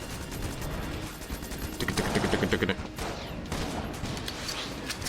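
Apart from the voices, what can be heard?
gunfire from the video game Enter the Gungeon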